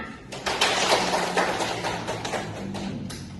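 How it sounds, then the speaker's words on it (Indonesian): A class of pupils claps their hands in a classroom, a burst of overlapping claps that starts sharply and carries on as a dense, busy patter for a few seconds. "Ibu berkata tepuk tangan."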